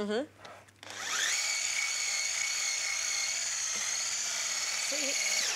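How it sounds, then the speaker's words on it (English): An electric mixer whisking firm white ganache in a kitchen, starting up with a rising whir and settling into a steady high-pitched motor whine that stays loud and even throughout. "So we're just going to whisk it up."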